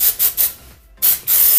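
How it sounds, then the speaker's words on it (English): Short hissing bursts of Design Me dry shampoo sprayed over a shiny wig, several close aerosol puffs separated by brief pauses, then a longer spray. "So I'm just taking my Design Me dry shampoo and I'm gonna spray this all over"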